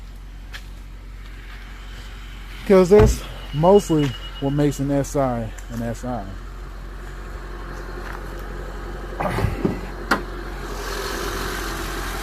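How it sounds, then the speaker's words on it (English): A 2014 ninth-generation Honda Civic Si idles after start-up, its low, even engine hum running steadily beneath someone talking nearby. "Now that we got this thing started up, let me show you this engine."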